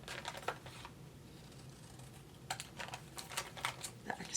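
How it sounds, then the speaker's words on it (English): Card stock strip trimmed with a paper trimmer, a quiet run of dry ticking and slicing clicks in two bursts, close and faint, no voices. "Now I'm going to trim"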